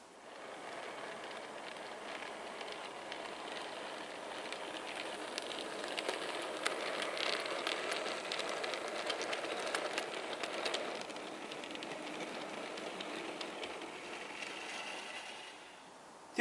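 A model railway locomotive pulls a rake of wagons along a layout, giving a steady, soft mechanical whirring and clicking rumble that swells slightly in the middle and runs on without speech.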